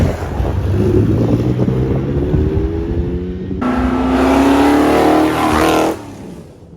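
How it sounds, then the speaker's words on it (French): A small Ferrari Dino sports car arrives at the 24 Hours of Le Mans, its engine note rising and growing louder as it approaches amid steady wind noise and crowd ambience, then cutting off abruptly. "T'as regardé la belle voiture qui arrive, la petite Dino qui nous vient d'Allemagne."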